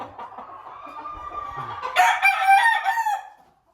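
A Golden Boy Sycamore gamefowl rooster on a farm crows once, a loud, close, drawn-out call that rises sharply midway and then fades out, heard on its own.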